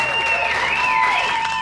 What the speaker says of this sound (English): I think we can applaud that